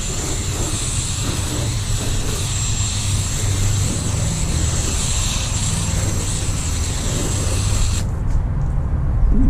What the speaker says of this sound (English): I'm going to use my backup foam gun.